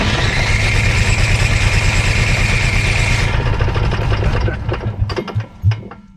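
An Onan 4000 generator engine runs loud and steady with a dense mechanical drone, then its roar drops away in the final seconds, leaving scattered clicks and knocks.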